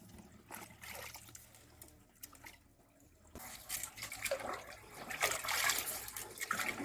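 Washed wheat grain sits in a sieve as water drains through, a soft, continuous trickling and dripping that grows fuller and louder toward the end, with no voices.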